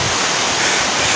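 A river swollen after heavy rain rushes loudly and steadily along the Appalachian Trail near Kittatinny Visitor Center, a constant close roar with no voices.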